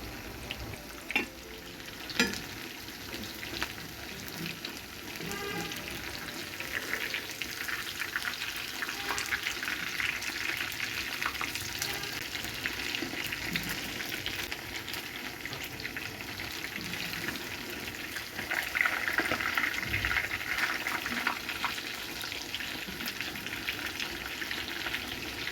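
Homemade chicken pieces frying in hot oil, a close, continuous crackling sizzle with occasional stirring clinks that grows slightly louder toward the end, with no talking.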